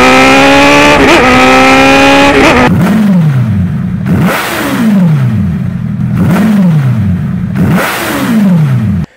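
A Honda CBR1000RR sport bike fitted with a Hyperflow aftermarket exhaust revs hard, starting from a sustained high-rpm wail, then blipping up and falling back in repeated sharp rev cycles. The exhaust is loud and close, with no talking.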